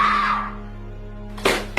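A woman with a bruised face suddenly screams in a dramatic scene: a loud, strained cry at the start trails off, then a short sharp burst of voice breaks out near the end.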